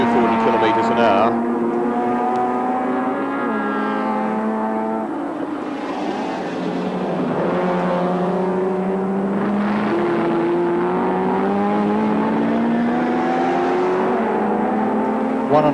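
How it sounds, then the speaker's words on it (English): Big V8-powered sports sedans race down the straight at Sandown in 1984. A loud, sustained engine roar rises and falls in pitch as the cars drive past at high speed. "Very fast down the straight, the big V8 powered cars, getting up around 240 kilometres an hour."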